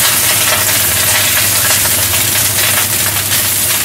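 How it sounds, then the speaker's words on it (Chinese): Dried scallops frying in oil in a very hot wok, giving a loud, steady, close-up sizzle and hiss that runs without a break. "咁我哋爆一爆啲瑶柱先，爆香佢。"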